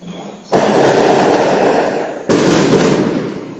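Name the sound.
fireworks going off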